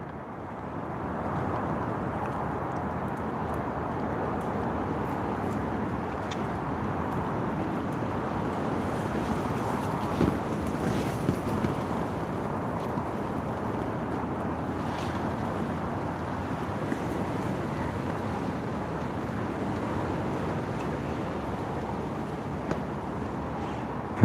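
Blustery wind gusts across a lake during carp feeder fishing from a kayak, a steady broad rush with lapping water, continuous and without talk.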